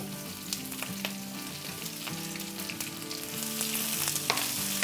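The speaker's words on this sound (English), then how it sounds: "We are going to saute our veggies" Vegetables sauté in about two tablespoons of oil in a preheated skillet for a beef stir fry, giving a steady close sizzle. A few clinks of stirring come through, and the sizzle grows louder toward the end. No one speaks.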